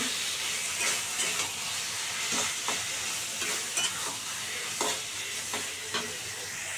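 Chickpeas sizzle and fry in an oil-filled pot for kachu shak (taro leaf greens with coconut), a steady hiss broken by the scrape of repeated stirring, close and alone.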